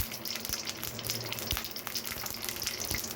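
Mustard seeds dropped into hot oil in a pan crackle and sputter, a dense, steady hiss studded with sharp pops and clicks, close and fairly loud with no talking.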